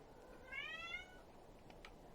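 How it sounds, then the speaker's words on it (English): A pet cat gives one loud, drawn-out meow up close, standing alone over a low steady room hum with no talking. "That's my cat. He's just casually screaming as he does."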